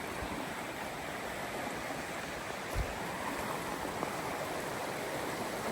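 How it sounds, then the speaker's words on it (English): Running water from a brook or stream at night in the rain, a steady broadband rush that carries on evenly throughout, with one brief low thump partway through. "you can see the stream running through right there"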